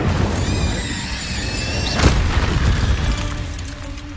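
A Confringo fire-blast spell in the game Hogwarts Legacy bursts with one loud, sudden boom midway through a dense, rumbling battle din, while high sustained musical tones ring out early on.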